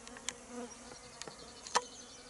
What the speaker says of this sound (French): Vous voyez, toutes les butineuses sont là.